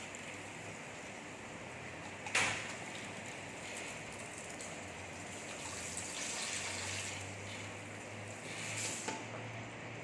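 Water runs steadily at a salon wash basin while hair is rinsed, a continuous hiss and splash with a few brief knocks and shifts in the flow.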